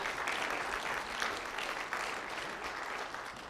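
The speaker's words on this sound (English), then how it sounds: "Why don't we all clap for them again?" Clapping from a community town hall audience at an elementary school for singers, a soft, even spread of applause heard from some distance and continuing steadily without voices.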